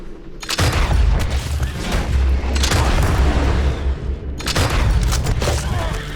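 Gunfire in the Red Dead Redemption 2 assault on Fort Mercer, a close, loud barrage of sharp shots and booms coming in bursts with brief lulls between them.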